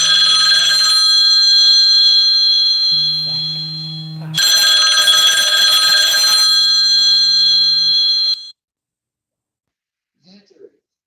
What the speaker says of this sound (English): Sorry, had a phone call.